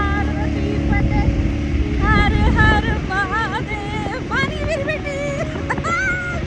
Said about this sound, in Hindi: यहाँ हमें मिली है एक माउंटेन बाइक जिससे हम ऊपर की तरफ गए